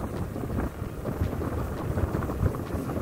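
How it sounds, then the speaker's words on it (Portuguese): Strong wind gusts across the dunes at Praia do Forte in Cabo Frio, a continuous rough roar buffeting the microphone with no voices. "possa estar ventando do jeito que está ventando hoje"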